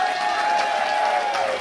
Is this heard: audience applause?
yes